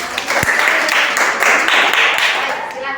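Steady applause from a classroom audience after a group presentation, many hands clapping continuously at moderate loudness for the full stretch, with faint voices mixed in.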